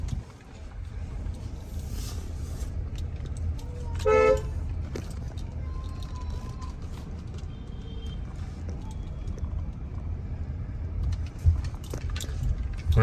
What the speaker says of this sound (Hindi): अब मैंने कार को पार्क कर दिया है।